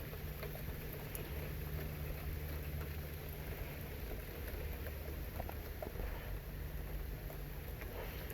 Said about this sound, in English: A nice gentle rain.